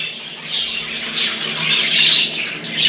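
Jumbo budgerigars squawk and chatter loudly and continuously at close range, a harsh, dense stream of calls with no speech.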